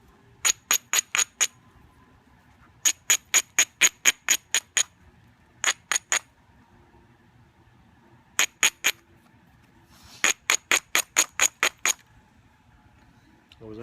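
Stone is struck by percussion during flint knapping, sharp bright clicks falling in quick bursts of four to eight separated by short pauses, close and clear against a quiet background.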